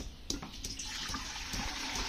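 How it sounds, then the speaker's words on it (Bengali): Water pours steadily into a cooking pot for rice porridge (kanji jau), a continuous, fairly close splashing rush with a brief louder splash near the start and no talking. "হাঁড়িতে পানি দিলাম"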